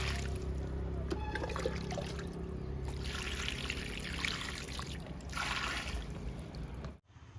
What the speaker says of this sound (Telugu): గన్నేరు మొక్కకి వాటర్ ఇస్తున్నా.